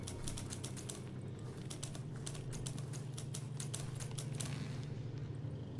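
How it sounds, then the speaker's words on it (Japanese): Typewriter typing in the video game Dishonored 2, a fast, continuous run of sharp mechanical key clacks at moderate distance over a low steady hum. "すごいタイプライターの音がしてるけど。"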